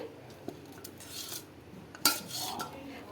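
A ladle pressing and mixing cooled cooked rice in a metal pot, soft scraping with a few sharp clinks of metal against metal, one louder knock midway, quiet and close.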